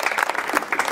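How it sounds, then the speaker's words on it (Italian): Applause from the audience at a storytelling event in Sinalunga, Italy, greeting the guest speaker; a short burst of dense clapping, fairly close and steady throughout. "Lirio, innanzitutto un applauso."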